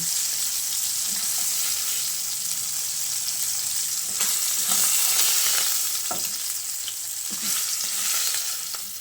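Rohu fish pieces frying in hot oil in a wok, a steady close sizzle with a few scrapes and clinks of a utensil as the pieces are lifted out, no talking.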